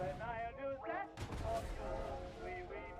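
A Luchs 20mm cannon fires at a tank in the Hell Let Loose war game. Sharp gunfire bursts land amid game music and battle noise, and a voice talks over parts of it.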